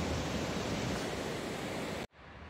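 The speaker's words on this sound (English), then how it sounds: "And the beautiful waterfall." Mürren waterfall in the Swiss Alps, a dense, steady rushing roar of falling water that cuts off abruptly near the end.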